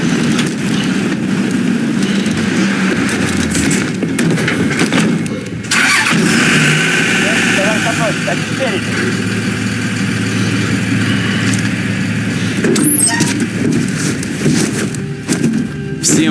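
Military vehicle engines in the Call of Duty: Modern Warfare game crank over and start, then rev and settle into a loud, rumbling idle. A brief break and a few sharp mechanical bursts interrupt the sound, and no one speaks.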